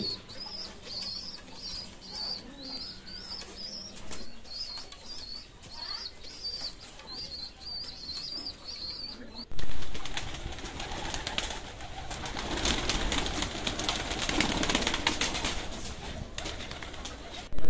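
Pigeons in a colony breeding cage coo in repeated soft calls, then wings flap in a louder burst, close and busy, with light background chatter.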